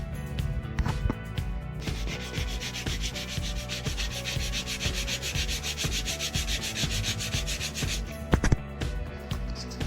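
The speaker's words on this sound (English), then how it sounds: "I'm just gonna sand this pipe up quick" Steel pipe being sanded for a roll cage X-bar, a loud continuous abrasive rasp with fast rhythmic strokes close up, briefly stopping and restarting near the end.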